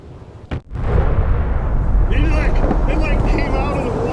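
A torpedo striking a ship in the submarine game UBoat, a sharp crack followed by a sustained roaring blast with rumbling debris, loud and close, with a voice talking under the roar.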